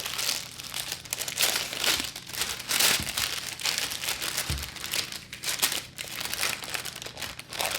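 Chilled lemon lavender cookie dough is unwrapped from its crinkly wrapping, a continuous close rustling and crumpling with a few sharper crackles, no talk.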